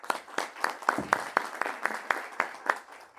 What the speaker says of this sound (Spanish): Por favor, un aplauso para el señor alcalde.